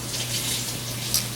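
Running tap water splashes steadily as a small toy cooking utensil from a Popin Cookin hamburger kit is rinsed, a brief, even gush with no voices.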